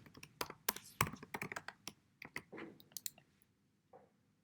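Login credentials typed on a computer keyboard, a close, quiet run of irregular key clicks and taps that thins out toward the end, with no talking.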